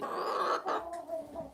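Hen clucking and murmuring at close range in a backyard flock, a soft, continuous run of throaty clucks with a couple of sharper notes, no talk over it.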